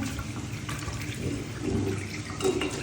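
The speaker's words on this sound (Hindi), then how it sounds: "वैसे मैं तो जो भी इधर पड़ा होता है ना साबुन, उससे इसे अच्छी तरह धो लेती हूँ।" Running water splashes and gurgles as something is washed with soap at a sink, a close, fluctuating wash of water with no talking.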